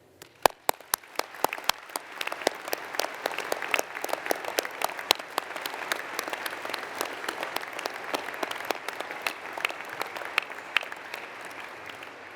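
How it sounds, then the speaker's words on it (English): A graduation ceremony audience applauds the graduands at a university summer ceremony, a large hall of steady, dense clapping that starts with a few sharp early claps, swells quickly and holds at an even level for the whole stretch. "could we please all start by collectively applauding our graduands"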